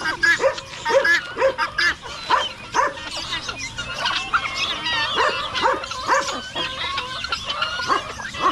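A dog barks and yips repeatedly in short, uneven bursts, fairly close, with faint chatter and other animal noises, including ducks and chickens, in the background.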